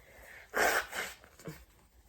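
One sharp sneeze, then a couple of softer breathy snorts and sniffs, fairly quiet overall.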